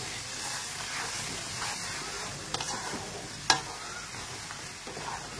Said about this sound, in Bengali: একটু আদা, একটু কাঁচা লঙ্কা আর একটু টমেটো নিয়ে মশলাটার সাথেই ভালো করে কষিয়ে নেব আমি